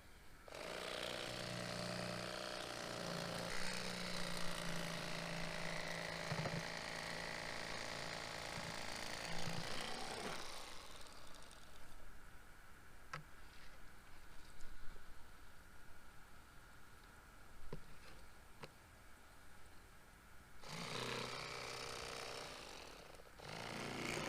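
A cordless lithium-ion Bubba Blade electric fillet knife whines loudly as it cuts through redfish rib bones, stops for about ten seconds of near quiet with a few clicks, then whirs again near the end.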